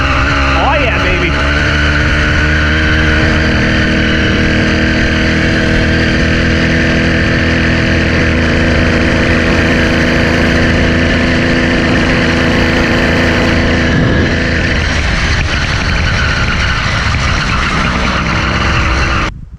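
Cheap moped ridden up a hill with its small engine bogging down, giving a loud, continuous strained drone with wind roar that holds steady before the pitch shifts near the end, heard close up.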